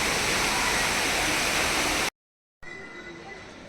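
Steady, dense rain patters onto garden plants, a loud even wash, then cuts to a brief silence before a quieter, more distant rainfall resumes.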